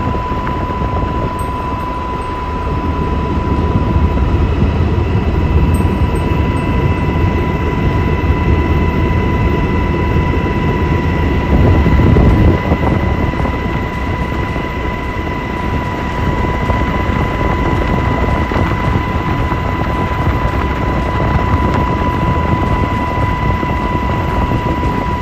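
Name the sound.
S-70i Black Hawk military helicopter flying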